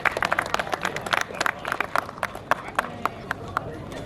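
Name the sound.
audience applause for the winner Josh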